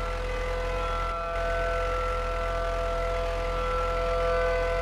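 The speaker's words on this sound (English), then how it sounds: "Siren going off." A siren in the Roblox game Twisted holds a steady, sustained wailing tone over a low rumble, continuous and fairly loud throughout.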